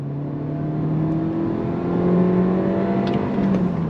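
A 2023 Honda Civic hatchback engine pulling under throttle in a simulated gear, a steady rising drone heard from inside the cabin, continuous and moderately loud with no talking.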